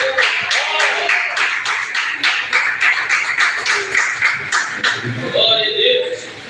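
A church congregation claps steadily in rhythm for about five seconds at a worship service, loud and close, with voices rising as the clapping tapers off near the end.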